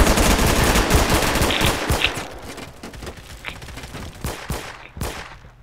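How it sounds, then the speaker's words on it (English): Shotgun fire and other weapons in the Roblox shooter Phantom Forces: a dense, loud barrage of gunfire that thins out into several separate sharp blasts toward the end, with no speech. "shotgun blast!"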